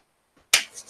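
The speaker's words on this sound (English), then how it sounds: "He claps and rubs his hands together." A single sharp hand clap rings out close by, followed by a brief soft brushing of palms rubbing together, in an otherwise quiet moment.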